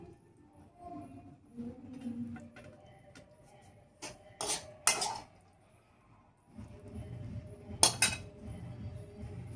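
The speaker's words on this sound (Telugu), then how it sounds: "దాన్ని ఇప్పుడు సర్వింగ్ బౌల్లో వేసుకుందాం" Tomato curry being served into a serving bowl at dinnertime, with scattered clinks and scrapes of a spoon against dishes, several sharp knocks and a quieter stretch between, close by.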